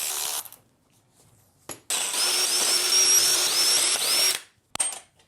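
A power drill or impact tool backing out bolts on a BMW X5 crankshaft during an engine rebuild, a brief whir, a pause, then a long steady high-pitched spin of a few seconds ending abruptly, close and loud.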